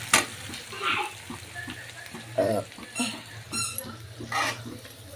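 A ground masala of dried coconut, garlic, ginger and coriander roasts in a pan for a brinjal dish, giving a soft frying hiss with intermittent scraping stirs and light squeaks from the spoon on the pan.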